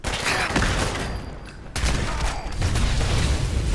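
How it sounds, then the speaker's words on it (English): Grenade explosion and rapid gunfire in the video game Fallout 4 Far Harbor, with dense loud bursts, a brief drop near the middle, then more heavy blasts and shots. "An explosion."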